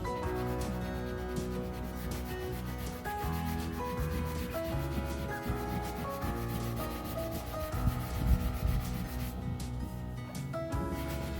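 A chest of drawers being sanded by hand with a sanding block, steady rubbing strokes close up and continuous throughout, with a musical track playing underneath and no talk.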